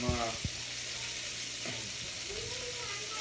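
Sausages frying for breakfast in a farm kitchen, a soft continuous sizzle heard under brief speech and small clinks at the start.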